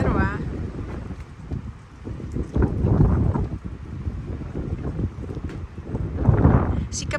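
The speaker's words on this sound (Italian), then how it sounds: "Qua c'è un leggero vento oggi, che a momenti ci porta via anche noi." Strong outdoor wind gusting and buffeting the microphone on a blustery day, a continuous low roar that swells and eases throughout, with a person talking over it.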